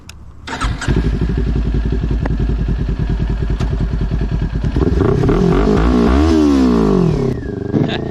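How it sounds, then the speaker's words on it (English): Kawasaki Ninja 400 motorcycle engine starting up, then a steady, loud, close idle and rev, rising in pitch near the end before dropping back, with no voices. "This bike is so fun to rev."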